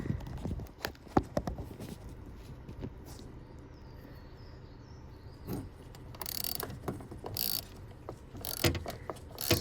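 Ratchet turning a small screw on a Volvo XC70 pressure sensor, a quick series of sharp mechanical clicks and ticks in irregular bursts, close and fairly quiet, with no speech.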